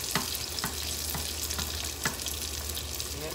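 Neyyappam sweet fritters frying in hot oil, a continuous bubbling sizzle with several light clinks of a spoon against the pan at intervals, close and moderately loud.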